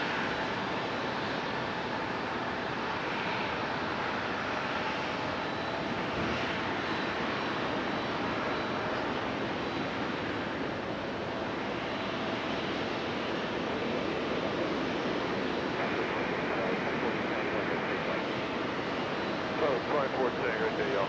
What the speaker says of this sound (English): We should have that little, that E175 that just touched down.